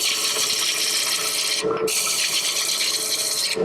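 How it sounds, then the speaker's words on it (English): Spindle roughing gouge shaping wood on a spinning lathe, giving a loud, continuous rasping cut that breaks off briefly twice as the tool lifts from the workpiece. "Again, just using the spindle roughing gouge for now."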